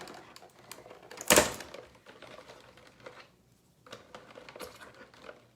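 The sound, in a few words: cracking eggs into a small cup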